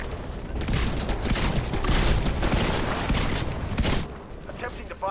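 Rapid gunfire bursts from the video game Titanfall keep going through the scene, loud and dense, layered with a game voice and other battle noise.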